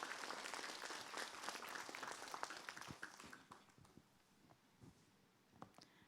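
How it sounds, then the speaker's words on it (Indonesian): An audience at an Islamic religious TV talk show bursts into loud, dense applause that holds steady, then thins and fades to scattered claps near the end. "Tepuk tangan dong buat Umi Maki."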